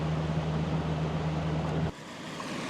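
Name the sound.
9.9 hp outboard motor roaring on a running boat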